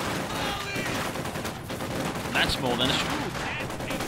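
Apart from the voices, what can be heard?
gunfire in Company of Heroes 2 video game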